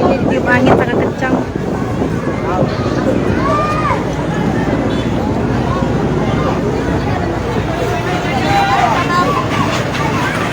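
Strong wind roars and buffets the microphone at a shophouse fire, with a crowd murmuring and people speaking throughout.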